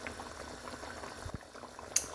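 Chicken and chickpea curry bubbles steadily on a high flame, a soft continuous simmering hiss with small pops and a brief louder blip near the end.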